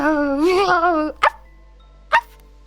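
A voice imitates a dog: a drawn-out, wavering whine followed by two short, sharp bark-like yelps, close up and with nothing else around it.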